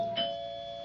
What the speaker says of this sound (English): Who's that? Doorbell.